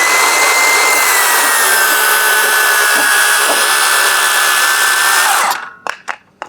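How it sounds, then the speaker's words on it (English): A circular saw cuts a deck board at a 45-degree angle along a speed square guide, a loud, sustained whining buzz that ends abruptly as the blade winds down, followed by a few sharp knocks. "When you push your saw against that guide, it's gonna stay at the 45 degrees."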